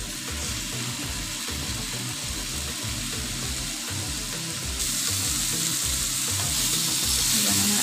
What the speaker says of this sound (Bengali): এবার আমার আলু বেগুনগুলোকে ভালোভাবে ভাজা হয়ে গেছে